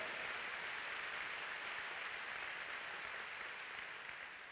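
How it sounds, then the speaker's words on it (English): Faint, distant church congregation applause, a smooth, even hiss of many hands clapping that holds steady without individual claps standing out, quiet throughout. "go ahead and give the Lord another big clap"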